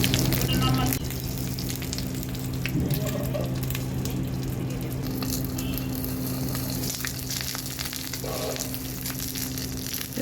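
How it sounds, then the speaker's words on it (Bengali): Paneer paturi parcels fry in a pan with a steady, loud sizzle that carries throughout, broken by occasional soft scrapes and taps. "একদিকে হয়ে গেছে, এবার আমি আরেকটি খুব ভালো করে ভেজে নেব।"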